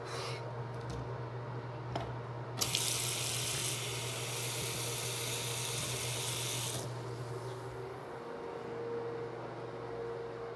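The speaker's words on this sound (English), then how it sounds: "if you're wondering what's making all this noise, we have the ceiling fan of the bathroom" A bathroom ceiling fan runs steadily with a loud, constant whoosh and a low hum, joined by a brief rush of hiss partway through.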